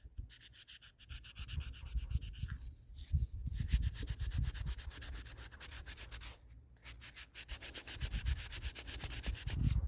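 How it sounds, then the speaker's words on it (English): Steady hand sanding of a toilet being restored, using worn 600 grit sandpaper, with continuous close rubbing strokes and short pauses between passes, no voices. "this is a used piece of sandpaper. This is probably about a 600 grit at this point"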